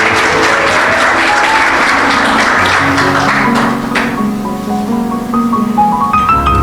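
A church congregation breaks into loud applause, dense clapping for several seconds that fades out as music or a sustained tone takes over.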